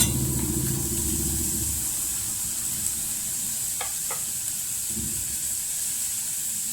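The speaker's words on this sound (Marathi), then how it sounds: "तर आता कांदा थोडासा भाजला की मग आपण टोमॅटो आणि हे सगळे एकत्र भाजून घेणार आहे." Onion roasting in a pan for Kolhapuri chicken masala, with tomato and coconut going in: steady broadband sizzle and hiss with a low rumbling scrape early on and a few faint clinks of a utensil, no talking.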